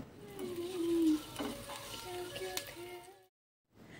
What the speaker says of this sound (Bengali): এখন এইগুলোকে একসাথে একটু মিশিয়ে নেড়ে চেড়ে নিতে হবে